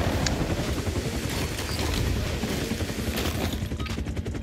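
Beam rifle and beam saber combat in a Call of Duty Gundam crossover team deathmatch: dense, continuous volleys of rapid energy-weapon fire and blasts, loud and close, with no pauses across the stretch.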